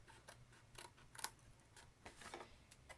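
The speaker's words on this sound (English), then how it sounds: "I am actually going to go ahead and snip this piece off." Scissors snip a piece off paper during papercraft gift box making, a few faint, quick clicks spread over a quiet moment with no speech.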